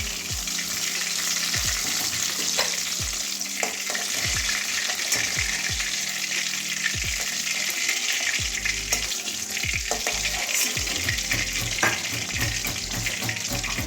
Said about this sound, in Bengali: বাকি মাছগুলো সব ওইভাবেই ভেজে নেব।